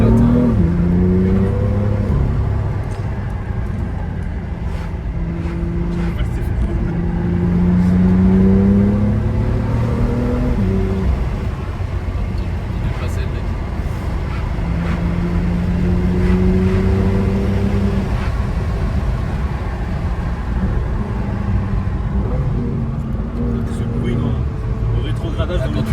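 A BMW M2 F87 accelerates on the road, its engine drone climbing and settling in smooth rising sweeps, loud and constant throughout, with people talking over the cabin noise.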